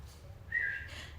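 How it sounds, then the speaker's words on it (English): A single short, clear whistle sounds faintly and alone, rising briefly over a quiet room hum. "I just heard a whistle which really took me aback"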